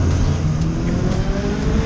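Steady engine and road roar from a car following a group of motorcycles, including a Raider 150, a TFX and a CRF, on a busy road in Bataan, loud and continuous with wind noise throughout.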